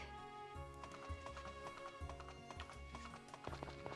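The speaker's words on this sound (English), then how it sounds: "I can hear our horse running around." Quick rhythmic clip-clop of a horse's hooves running in the farming video game Story of Seasons: Friends of Mineral Town, fairly quiet and repeating under the game's melodic background music, with no talking.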